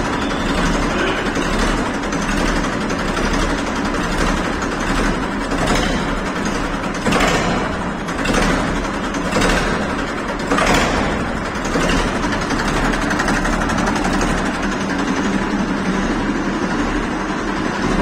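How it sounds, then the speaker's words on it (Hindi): A Massey 241 tractor engine idles steadily for the whole stretch, a loud, constant low diesel rumble with faint rhythmic pulsing and no voices. "मैसी 241 की आवाज़ सुनेंगे भाई।"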